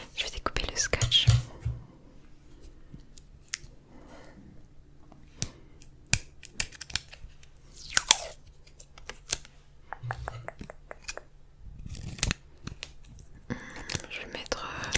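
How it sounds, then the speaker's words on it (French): Scissors snip adhesive tape close up, giving sharp isolated cuts and rustles amid quiet crinkling, with soft whispering between the sounds. "Je vais découper le scotch."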